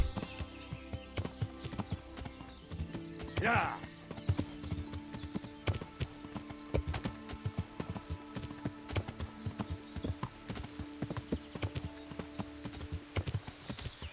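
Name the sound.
horse hooves while riding, from video game Kingdom Come: Deliverance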